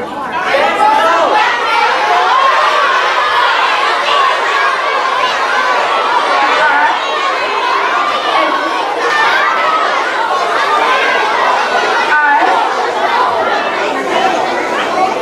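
A school crowd of children at an elementary school Harambee event calls out answers all at once, a dense, loud, continuous wash of overlapping young voices with scattered laughter.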